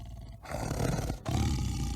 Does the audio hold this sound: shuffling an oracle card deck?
no